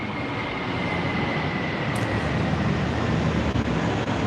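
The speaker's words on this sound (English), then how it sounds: "The peaceful sounds of giant planes landing." Large airplanes landing nearby give a steady, loud, broadband roar that fills the whole stretch, a continuous jet rush with a faint whine running through it and no voices.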